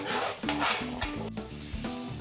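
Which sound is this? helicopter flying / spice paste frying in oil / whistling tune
spice paste frying in oil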